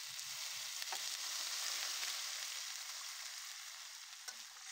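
Hot pan of sautéed spices for a home-style Bengali puti fish and kakrol curry, with a steady, even sizzle throughout and a couple of brief clinks, no voices.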